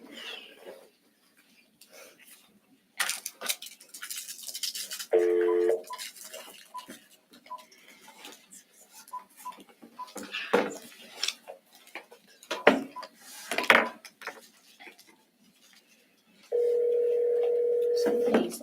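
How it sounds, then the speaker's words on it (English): Telephone dial tone heard during a work-session phone call, a steady electronic tone sounding briefly in the middle and again at the end, close and moderately loud, with clatter and people talking in the room between them. "we need to get Aaliyah on the phone"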